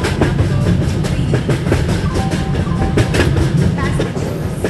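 Vande Bharat Express train in the Indian Train Simulator game rumbles along with steady, loud rolling noise and rhythmic clickety-clack of wheels over rail joints, heard alone and near.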